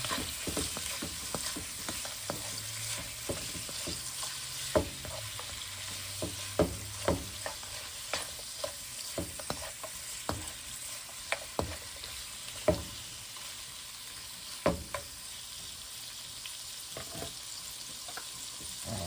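Chicken and shrimp fried rice sizzles in a pan while being stirred, giving a soft continuous frying hiss broken by irregular sharp clicks and scrapes of a utensil against the pan, close but fairly quiet and without talk.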